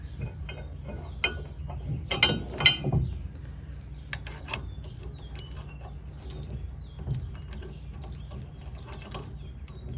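The adjustable shank of a Weigh Safe Aero trailer hitch slides down in its mount, giving a few short metallic clicks and scrapes against a low, steady background hum.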